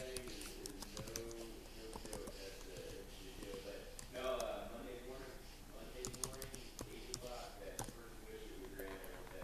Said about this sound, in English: I'm typing with one hand here, sorry.